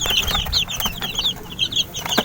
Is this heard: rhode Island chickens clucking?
yes